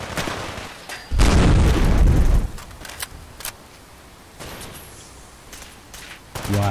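Grenade explosions in Fallout 4 come as a loud, dense burst of booming blasts lasting about a second, with a few sharper pops and rumbles after it and a final boom at the end. No one speaks over them.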